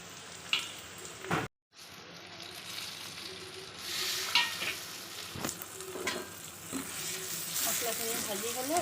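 Onion paste and spices fry in a pan with a constant soft sizzle. A spoon stirs and scrapes through them in repeated strokes, the sound briefly cutting out once.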